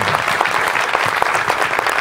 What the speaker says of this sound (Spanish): Un aplauso también a nuestros compañeros.